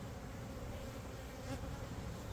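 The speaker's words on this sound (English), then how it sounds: "there's a lot of bees in here" Many honeybees buzz inside a nuc hive, a dense, steady drone close by that holds without break and has no talking over it.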